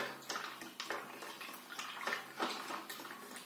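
Sunedge Ayurveda sandal soap is shaken in a bowl of water, giving close, irregular sloshing and splashing bursts with a few clinking taps against the bowl, and no talk.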